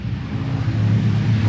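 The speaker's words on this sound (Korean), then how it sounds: "차 소리가 들리죠?" A car passes nearby on a road, a steady low engine rumble with a broadband wash of road noise that grows slightly louder over a second and a half, with no talking.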